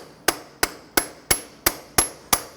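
Punch hammered to drive out the front left CV axle on a 2006-2014 Honda Ridgeline 3.5L V6: seven sharp metallic strikes at an even, brisk rhythm, close and clear against a quiet background.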